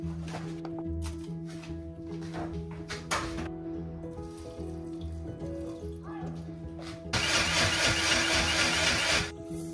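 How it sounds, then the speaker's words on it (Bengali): A blender grinds ginger, tomato, fennel, whole cumin and dried chilli into a paste. Light kitchen clatter comes first, then a loud, close whirring burst lasts about two seconds before stopping. "এবার ব্লেন্ডারে বেশ কিছুটা আদা, টমেটো, মৌরি, গোটা জিরে আর শুকনো লঙ্কা পেস্ট করে নেব।"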